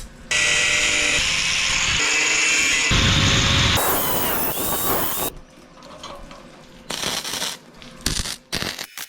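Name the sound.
MIG welding the handrail of a welding cart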